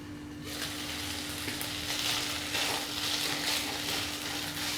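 Chicken cooks in a covered pan over a low flame, a steady soft hiss and faint bubbling simmer running evenly throughout with a constant low hum beneath.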